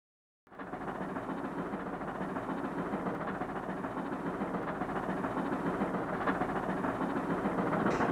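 Steam locomotives 3824 and 3805 running light through Hornsby station in 1960, a steady rolling rumble with rail clatter that starts abruptly after a brief silence and holds loud and constant to the end.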